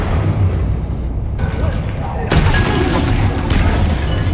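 Explosive spell blasts from Bombarda and Confringo in Hogwarts Legacy, a loud booming burst layered over a continuous noisy combat din, with a sharper impact about halfway through; voices shout in the background.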